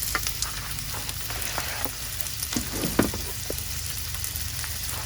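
Food sizzles steadily on a Blackstone griddle outdoors, a continuous frying hiss punctuated by faint scrapes and light taps from a spatula.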